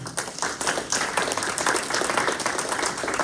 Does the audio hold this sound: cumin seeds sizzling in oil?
no